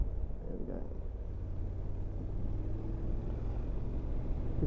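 A four-wheel drive vehicle passes along a country lane near Otford on the North Downs of Kent, a steady low engine rumble rising and holding close by throughout.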